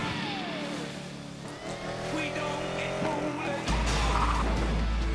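A Lamborghini Aventador in the Need for Speed Most Wanted racing game, its engine revving and shifting with rising and falling whine, then a sudden loud low rumble near the end, with someone talking over it.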